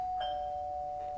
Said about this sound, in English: But I can still answer the doorbell.